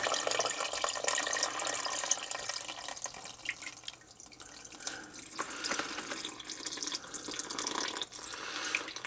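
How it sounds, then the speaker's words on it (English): Water drains from a plumbing pump during winterizing, a steady broadband splashing and trickling with scattered drips, fairly close and continuous throughout with no voices. "That's draining the pump because you don't want the pump to freeze."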